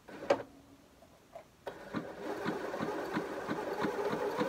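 A sewing machine motor hums steadily after a couple of faint clicks, its rhythmic whir running unloaded and close, with no fabric.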